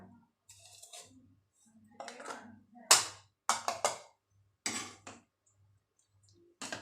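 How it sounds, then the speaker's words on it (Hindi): Dahi phulkiyan, yogurt with small dumplings and potatoes, being stirred with a spoon in a bowl, giving a series of clinks and scraping taps in short bursts with pauses between them. "अच्छे से मिक्स करेंगे"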